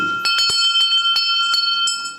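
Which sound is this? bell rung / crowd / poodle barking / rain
bell rung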